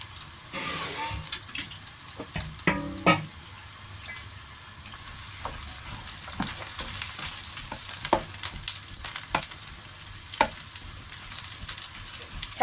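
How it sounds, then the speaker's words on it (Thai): Long eggplant stir-fried in hot oil, a loud burst of sizzling at the start followed by repeated clanking spatula strokes against the pan and a continuing crackling fry. "ใส่น้ำมันเข้าไป ผัดมะเขือยาวก่อนจ้า"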